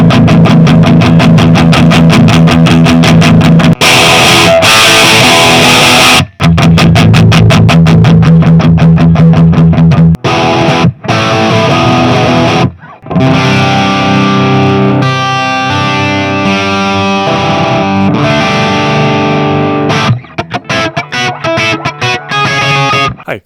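An electric guitar runs through a VOX Valvenergy Copperhead Drive, a Marshall-style tube preamp pedal, producing loud distorted chords and riffs with pauses between phrases, alone and without talking.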